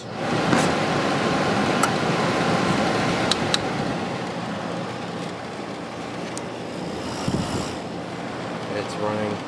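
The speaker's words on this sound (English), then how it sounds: "Start the compressor." Kenmore 12,300 BTU air conditioner with its compressor running alongside the fan, a steady broadband hum and rush with a faint tonal whine, sounding abnormal, continuous throughout with occasional small clicks.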